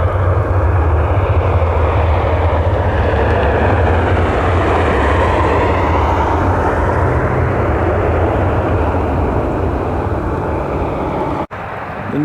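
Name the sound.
Boeing 737 airliner flying inbound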